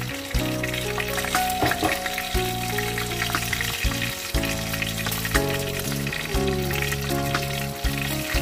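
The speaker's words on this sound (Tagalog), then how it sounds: "Medyo maingay kasi nagpiprito po ako ng manok" Loud, continuous sizzling and crackling of chicken frying in hot oil, with a musical tone layered underneath throughout.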